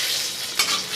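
Two dry red chillies and a bay leaf dropped into hot oil, a loud close sizzle hissing steadily with one brief burst of stirring partway through.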